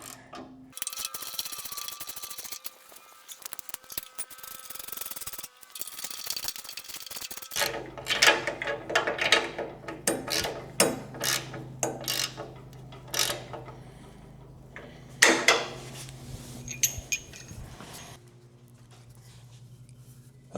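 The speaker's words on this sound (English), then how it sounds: "Is this a 14 millimeter socket? Get that tightened down." A ratchet with a 14 millimeter socket tightens a bolt during assembly of a Grizzly G0513Z bandsaw. Rapid clicking pawl strokes come in irregular bursts close by, among clanks and handling noises over a low background hum.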